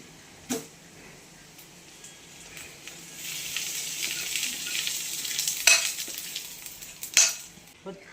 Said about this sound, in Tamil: இதுபோல் நல்லா வதக்கிட்டுங்க